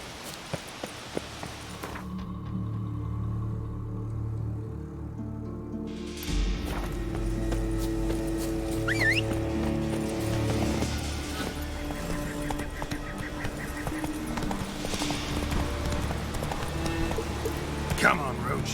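Roach the horse gallops through Leshen territory in The Witcher 3, with steady clip-clop hoofbeats running under game music and a voice talking over it.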